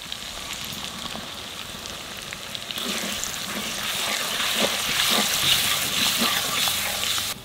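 Spice paste with turmeric frying in a pan for jackfruit curry, a steady hissing sizzle that swells and grows busier partway through, close and continuous with no talk.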